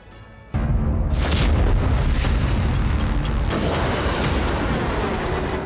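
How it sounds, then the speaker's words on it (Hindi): Hezbollah rockets strike Israel with a sudden loud boom, followed by a sustained, heavy, rumbling roar of blasts that stays intense for several seconds with no voices. "देखिए इजराइल में कैसे बरसी है हिजबुल्लाह की बारूदी ज्वाला।"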